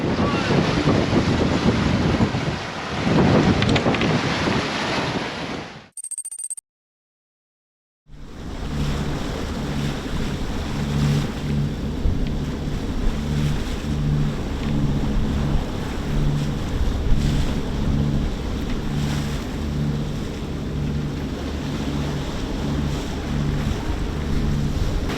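A sailboat rides a rough sea on a passage toward the Red Sea near Yemen and Djibouti, with heavy wind buffeting and the wash of waves. After a brief dropout comes a steadier low rumble with a rhythmic hum.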